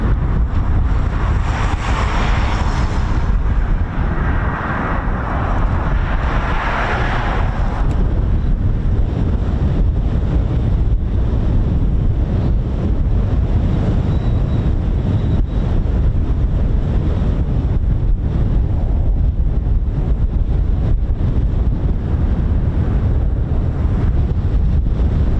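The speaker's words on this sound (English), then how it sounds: "There is actually an engine run going on, but that is just constant wind" Constant wind buffets the microphone at an RAF airfield, a loud, steady roar with rumbling gusts that goes on for the whole stretch, with no voices.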